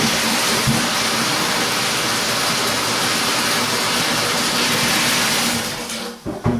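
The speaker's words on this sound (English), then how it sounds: "then I'll rinse this out in the bathtub." Water runs and gushes steadily into a bathtub as a paint bucket is rinsed out, a loud, continuous splashing rush that drops away at the very end.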